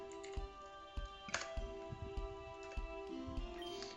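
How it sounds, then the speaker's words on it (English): Loud clacking keystrokes on a PC computer keyboard, irregular taps and bursts of typing close to the microphone, heard alone without speech. "Sorry if you can hear the loud clacks on my keyboard"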